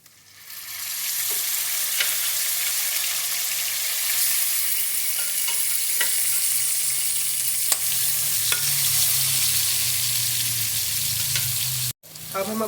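Gosht (beef) sizzles steadily in a hot pan for a salted meat dish, a continuous close frying hiss with occasional stirring scrapes and clinks, cutting out briefly near the end.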